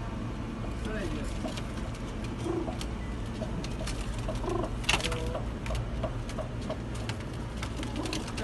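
Pakistani racing pigeons cooing outdoors in Jeddah, soft repeated coos over a constant background hum with faint traffic, fairly distant and low in level.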